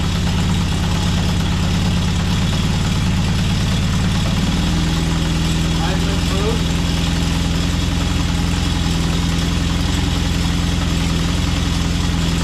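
A Honda CB750 four-cylinder engine idles steadily during carburetor synchronization, a loud continuous low hum with a slight shift in pitch partway through and no talking.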